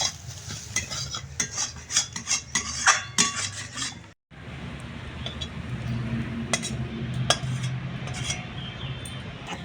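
Cooked rice for fried rice is mixed in a pan with spices and scrambled egg: a close, busy run of spoon scrapes and metal clinks against the pan, a brief gap, then steadier stirring over a soft sizzle.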